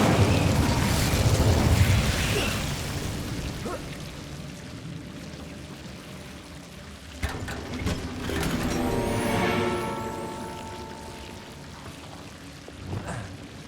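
An Incendio fire spell cast in the video game Hogwarts Legacy, a loud whooshing, crackling blaze at the start that tapers off, then a second burst with a rising magical shimmer midway, with no talking.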